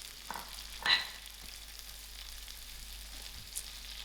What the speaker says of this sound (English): I will leave this mixed veg to fry for a few seconds